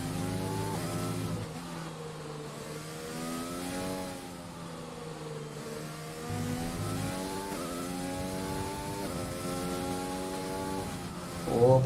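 An F1 2020 race car engine in the video game revs up and down through corners, its pitch climbing and dropping in repeated sweeps, a steady, prominent whine with a sharp rise at the end.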